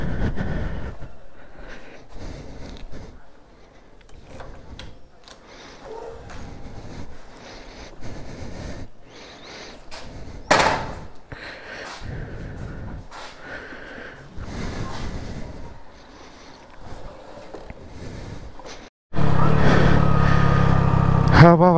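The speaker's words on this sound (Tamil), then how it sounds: "கிக்கர் உடச்சே பல வருஷங்கள் ஆகுதா, ஸ்டோக்கை கண்டுபிடிச்சி போட்டு ஒரு வழியாக ஆன் பண்ணிட்டோம்" A Bajaj Dominar 400 motorcycle with a broken kicker, broken down in the Kolli Hills, goes through scattered clunks and start attempts amid talking voices, then the engine catches and runs loudly at the end.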